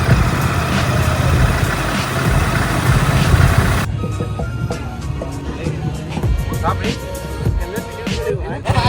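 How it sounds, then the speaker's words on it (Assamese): A Royal Enfield Interceptor motorcycle engine runs with a loud, steady low rumble on a group ride toward Chandrapur near Guwahati, with wind noise and a voice talking over it. "এতিয়া মই ইণ্টাৰচেপ্টাৰ চলাম"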